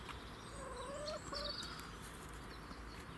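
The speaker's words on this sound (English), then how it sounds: "So the chickens are enjoying the sun." Chickens in an allotment run giving a few soft, faint clucks and calls, with a short rising call in the middle, heard at a distance over quiet outdoor background.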